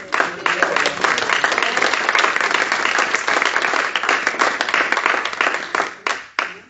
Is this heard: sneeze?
no